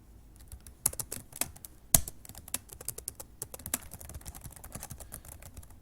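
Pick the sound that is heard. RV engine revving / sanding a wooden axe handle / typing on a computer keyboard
typing on a computer keyboard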